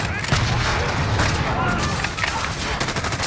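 Missile strike explosions and gunfire in Call of Duty Warzone multiplayer, a dense, loud barrage of booms and rapid shots running continuously, with a voice speaking briefly underneath.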